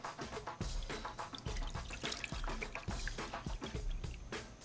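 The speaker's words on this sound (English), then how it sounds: "so you pour the water inside in the pan" Water poured into a pan in a home kitchen, a quiet steady splashing trickle with a faint continuous gurgle throughout.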